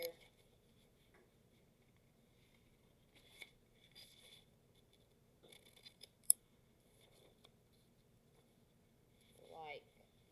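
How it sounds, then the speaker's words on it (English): Scissors snip the four corners out of a sheet of paper in a quiet room, a handful of short, sharp cuts scattered across the clip with faint rustling between them. "so all 4 corners get cut out here."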